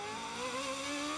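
Onboard engine of a 2013 GP2 race car during a practice lap at Monaco, screaming steadily at high revs with rising harmonics as the car powers out of a corner; loud, close and continuous with no talk.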